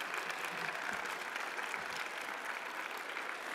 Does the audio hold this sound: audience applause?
yes